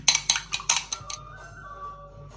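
An egg is beaten in a bowl: about six quick, bright metallic clinks of a utensil against the bowl come in a rhythmic burst, then stop, leaving quiet room tone.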